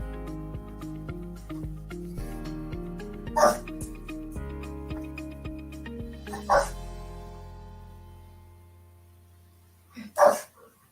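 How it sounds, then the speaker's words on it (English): A few sharp barks punctuate a sustained tonal background, spaced several seconds apart, the last one loudest and near. "My dogs are barking, acting up."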